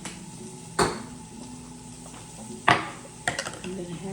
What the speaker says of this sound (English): Move my pan out of the way.